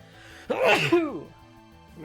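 A single sharp sneeze bursts out at close range, brief and fairly loud against a quiet room, followed by a short tail.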